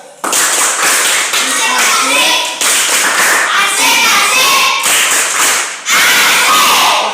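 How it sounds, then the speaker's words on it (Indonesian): A classroom group claps for another group after a presentation, loud close rhythmic clapping in a patterned chant-like beat with short pauses between bursts, with children's voices mixed in. "Kita berikan aplaus untuk kelompok 3 yang sudah presentasi hasil mereka"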